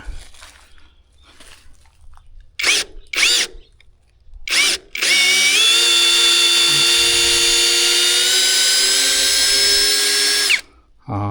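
A MASARU 3-mode cordless drill runs in reverse to back a screw out. Several short whirring bursts lead into one long, steady high-pitched whine lasting about six seconds before it stops. It is loud and close.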